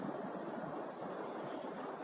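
Wind buffets a microphone outdoors on a frosty night beside a telescope on a tripod, a soft continuous rumbling rush at low level with slight swells, no voices.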